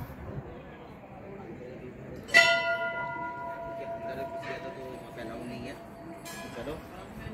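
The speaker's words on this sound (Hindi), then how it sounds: "चारों तरफ भाई घंटी, देखो घंटी।" Metal temple bells ring at Dharadevi Mata temple, one loud clear strike followed by a long shimmering decay and a second fainter strike near the end, with people talking over the outdoor background.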